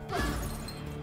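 Glass shattering in the video game It Takes Two, a single short crash with a bright breaking burst that quickly fades into a sustained ringing tone.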